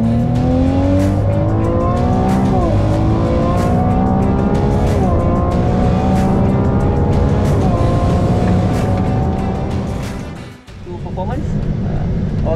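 A Ferrari 296 GTB hybrid on the Sepang circuit pulls hard, its engine note rising repeatedly through the gears with brief dips at each shift, loud and close, with a sudden lift near the end before accelerating again.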